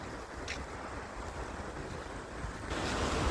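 A forest hill stream rushes steadily downhill, a continuous broadband wash of flowing water that swells slightly louder near the end, with no voices.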